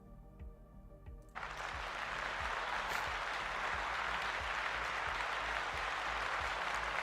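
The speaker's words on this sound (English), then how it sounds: "Let's give them a round of applause." An audience breaks into steady, continuous applause during a tabletop game homebrew review, loud and sustained after a brief quieter moment at the start.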